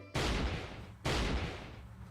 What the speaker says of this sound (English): that sounded like gunshot.